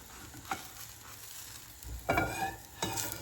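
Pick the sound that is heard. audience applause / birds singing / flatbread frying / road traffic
flatbread frying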